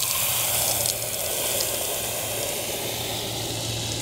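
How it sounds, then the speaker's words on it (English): A water hose rinses dirt out of a cold air intake filter, making a steady, close, continuous hiss of spray that holds without pause. "I'm gonna rinse this out"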